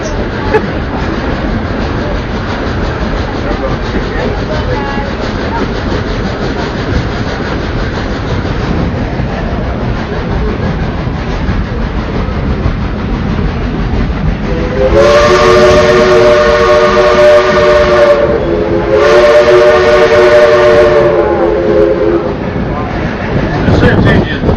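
Dollywood's steam train, engine 70, a World War II US Army veteran locomotive, runs with a steady chugging rumble, then its steam whistle sounds loud and near in two long blasts, a short break between them.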